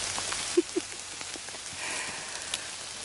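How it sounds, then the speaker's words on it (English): Steady rain patters on a surface nearby along the Great Glen in Scotland, with a few louder drips standing out against the soft continuous hiss. "So we shall just trudge on in this never-ending rain. Still wet, still raining."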